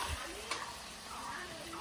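Food fries in a home kitchen pan until reddish-brown, making a faint, even hiss of sizzling for a short moment with light stirring.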